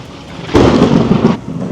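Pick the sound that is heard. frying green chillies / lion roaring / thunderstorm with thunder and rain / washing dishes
thunderstorm with thunder and rain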